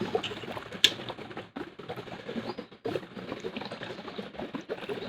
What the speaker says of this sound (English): Here we're just going to add a little pure oxygen with a stone.